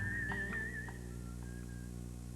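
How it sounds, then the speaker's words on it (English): A cartoon character whistles a short cowboy tune, a thin wavering melody of a few sustained notes over a steady background hum, fading softly. "he's whistling a little cowboy tune"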